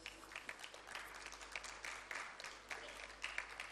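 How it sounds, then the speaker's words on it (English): An audience at a plenary session claps for a departing speaker, a quiet, fairly distant patter of applause with uneven swells over a low steady hum. "Another big round of applause for her."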